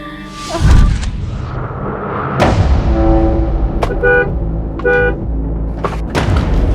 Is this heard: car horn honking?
yes